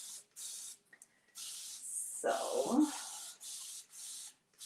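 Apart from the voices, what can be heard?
spraying paint up close onto a room divider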